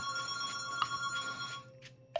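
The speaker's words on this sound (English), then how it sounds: "The phone is ringing, but" A telephone rings at a guest house reception, a steady electronic trill that pulses through most of the moment before cutting off, moderately close with a faint background hum.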